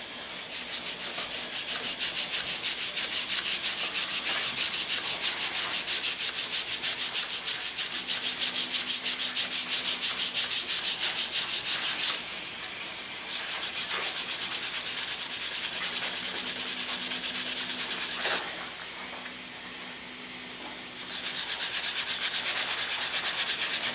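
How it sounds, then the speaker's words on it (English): Tapered F1D propeller spars being sanded down for a Senior Flyer model, a steady close rubbing rasp that runs continuously, pauses briefly twice, then resumes at full strength. "One is to just sand them down."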